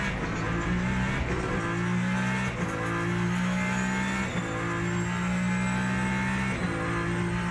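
A race car engine in the Le Mans Ultimate sim game at Monza holds a loud, continuous high whine, rising through the gears with brief dips at each upshift, steady and close throughout.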